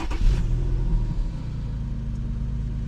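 A car engine idling steadily after start-up, a deep low rumble with a brief louder rev at the outset, close and continuous with no talk.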